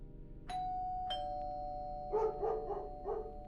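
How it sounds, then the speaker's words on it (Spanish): A doorbell chimes twice, and then an indoor dog barks four times in quick succession, moderately close, at the door of a house. "El sonido de un perro ladrando sonó desde el interior tan pronto como toqué."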